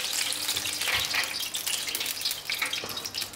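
Oliebollen batter sizzles in a deep fryer of oil at 180 degrees, a close crackling hiss with bursts of bubbling and spitting, no voices.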